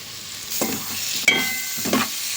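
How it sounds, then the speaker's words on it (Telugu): A spoon stirs banana fry with coriander and ground coriander seed in a pan, three distinct scraping strokes over a soft sizzle. "ఈ రీతిగా చక్కగా కలుపుకుందాం"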